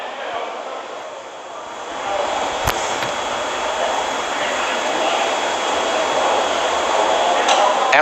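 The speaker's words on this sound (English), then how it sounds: "we're throttling down the Merlin engines on the first stage" The Merlin engines on a SpaceX Falcon first stage roar in flight while throttled down, a steady, loud broadband rush that holds evenly with a slight swell and no clear breaks.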